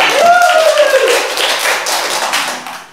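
Students in a classroom break into a round of hand clapping, a dense patter of claps that follows a brief raised voice and continues steadily to the end.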